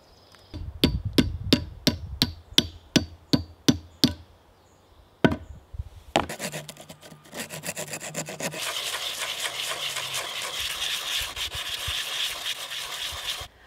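Wooden wedge hammered into the head of an old rusty axe's wooden handle: about a dozen sharp, evenly spaced close knocks, a lone strike after a pause, then continuous scraping and rasping of wood.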